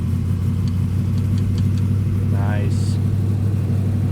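A steady, loud engine drone from an LS-swapped Camaro idling after start-up, continuous throughout with a brief higher whine near the middle; someone speaks briefly over it.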